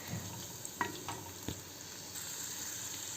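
Garlic sizzles softly in a pan with steady low frying noise, interrupted by a few brief stirring scrapes and light clinks of a utensil, with no one speaking.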